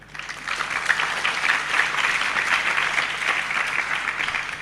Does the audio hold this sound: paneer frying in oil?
no